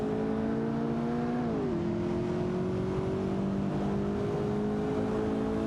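Race cars in a video game race hold a steady, continuous engine drone, a whining tone that drops in pitch as a gear shifts, over a constant mix of engine noise with no talk.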